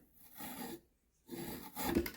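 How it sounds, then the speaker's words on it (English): A metal file scraped across the face of a hammer, giving two separate bursts of rough rasping strokes with a short pause between them, close and fairly quiet. "I'm not going to file a whole hammer like this"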